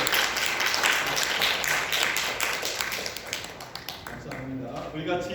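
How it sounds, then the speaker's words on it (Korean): A church congregation claps for the teachers, a dense patter of applause that gradually thins out, with voices in the room. "수고했습니다. 박수."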